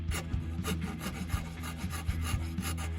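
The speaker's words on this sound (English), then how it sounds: "We're just gonna rasp a little bit of that out." Rasp filing hardwood on a guitar body, a steady run of rough rhythmic strokes, close and fairly loud, each pass scraping evenly through the wood with a low hum underneath.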